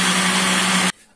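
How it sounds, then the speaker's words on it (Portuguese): A blender whirs at full, steady speed while mixing jabuticaba mousse with gelatin, a loud close motor drone that cuts off abruptly near the end. "Vou estar ligando o liquidificador e colocando ele."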